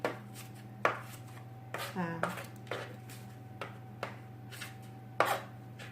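A knife chops herbs on a cutting board in a handful of sharp, irregular taps, close by, with a steady hum in the background.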